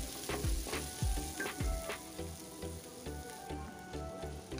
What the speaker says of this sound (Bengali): আমি কড়াইতে ভেজে নিই একটু হালকা করে ফুলকপিগুলো